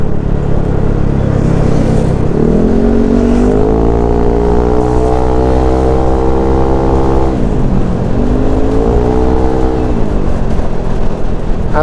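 A Yamaha NMAX scooter with a bored-up engine and a Proliner racing exhaust rides along a city road, its loud, close drone rising through two clear acceleration sweeps with CVT pitch changes.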